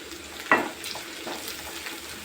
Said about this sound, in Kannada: ನೋಡಿ ಫ್ರೆಂಡ್ಸ್ ಚೆನ್ನಾಗಿ ಫ್ರೈ ಆಗೈತೆ